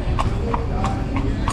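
Horse hooves clip-clop steadily on a street in Nassau, Bahamas, as the animal pulls a tourist carriage; about five even, close hoof strikes over a constant background rumble.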